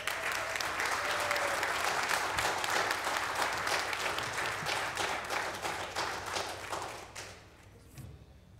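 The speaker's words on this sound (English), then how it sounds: "Let's welcome them with a big applause," Audience at a Linden city council meeting applauds the scouts serving as government for the day, a loud steady wash of clapping that holds for about seven seconds before thinning out and fading.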